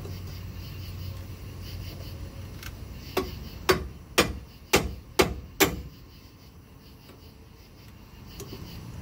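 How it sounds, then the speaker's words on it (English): Hammering on the end of bolts during a Kodiak jet drive impeller install: five sharp metallic strikes in quick, fairly even succession, close and loud, with a faint lighter tap before and after. "probably not the best beating on the end of the bolts here"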